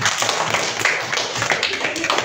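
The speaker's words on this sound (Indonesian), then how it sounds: "Tepuk tangan untuk kelompok 2." A classroom group applauds after a student team finishes presenting, a dense patter of many hands clapping at once, fairly close and steady for a couple of seconds, with faint voices mixed in.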